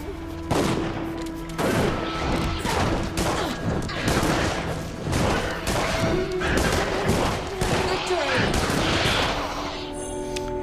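Pistol gunfire in the Dungeon Siege III video game rings out as rapid, loud repeated shots, a dense volley of cracks and booms layered with game effects and music throughout.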